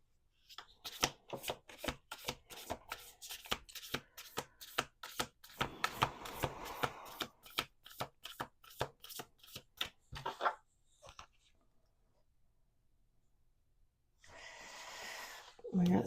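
A deck of cards being shuffled repeatedly, a rapid run of crisp flicking riffles close by, followed by a pause and a brief shuffle.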